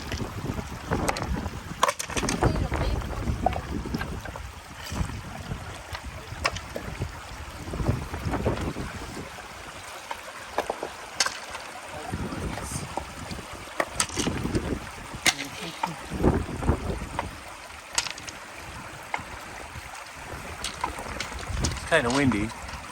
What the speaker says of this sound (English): It's kind of windy. Probably could hear the wind.